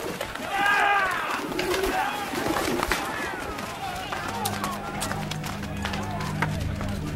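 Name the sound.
pigeons cooing and fluttering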